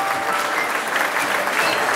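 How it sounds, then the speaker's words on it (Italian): Dense, continuous applause from an audience inside a disco dance hall in Caldogno, a close, even wash of many hands clapping. "Io chiederei, se possibile, un applauso e un augurio di poter ritornare qui al nord-est"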